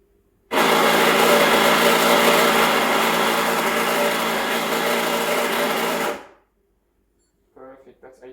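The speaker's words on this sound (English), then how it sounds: "And I'm going to grind 18 grams into it." Electric coffee grinder running for Rancilio Silvia espresso, grinding 18 grams of coffee: a loud, steady whirring burr grind lasting about six seconds, then stopping, followed by a brief voice.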